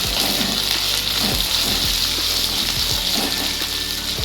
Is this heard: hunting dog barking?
no